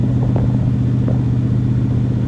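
Restored 1974 C3 Corvette cruising along, its steady low engine rumble and road drone continuous and close throughout, with no voices.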